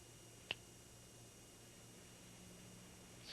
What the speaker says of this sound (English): when I snap my fingers